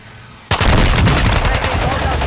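Video game gunfire in a battle royale match, a sudden loud burst of rapid automatic shots kicking in after a quiet moment and rattling on continuously at close range.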